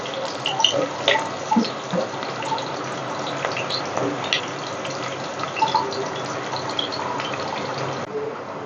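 Onions fry in hot oil with whole spices for a chicken curry, a soft steady sizzle with scattered crackles and pops, close up and fairly quiet, with no talk.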